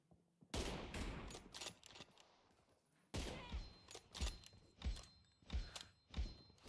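Sniper rifle shots from an M24 in a mobile shooting game, heard as a run of about six sharp, loud reports spaced irregularly apart, each with a short decaying tail.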